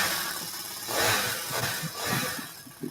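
A motorized bicycle's small engine runs nearby, rising and falling in uneven revs with rattly mechanical texture, loud and close without speech over it.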